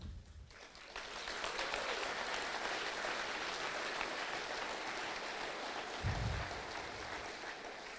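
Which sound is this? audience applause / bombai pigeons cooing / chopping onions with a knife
audience applause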